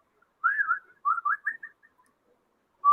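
A person whistles a short tune alone, a few clear rising and falling phrases in quick succession, then a pause before another note begins.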